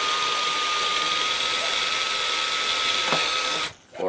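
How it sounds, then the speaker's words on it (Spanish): A power drill with a thin bit bores a pilot hole into chipboard while building a homemade hen's nest box, a steady close whirring hum running for several seconds before stopping abruptly. "le meto yo en este caso, una broca finita, para que haga el agujero guía y no reviente la madera"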